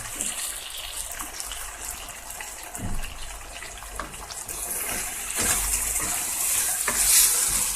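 Tarhana dish frying in oil in a pan, stirred and turned continuously, with a close, bright sizzle and scraping that grows louder toward the end.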